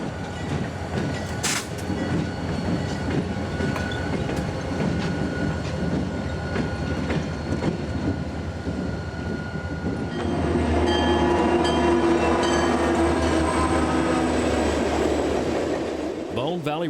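A freight train rolls past on a Tampa railroad in 2001 with a steady rumble and clickety-clack of wheels, swelling louder and closer over the last several seconds, with a faint voice now and then.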